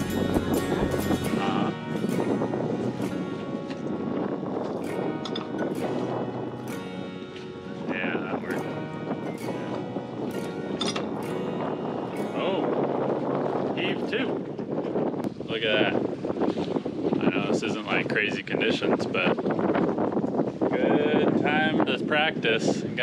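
Wind buffets the microphone aboard a sailboat sailing close hauled, a steady rushing roar under people talking.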